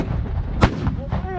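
U.S. Army artillery gun firing during a live-fire exercise: a single sharp, loud report mid-clip, with soldiers' voices around it.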